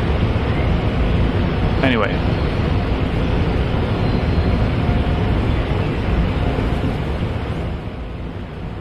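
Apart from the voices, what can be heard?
water flowing under restored water pressure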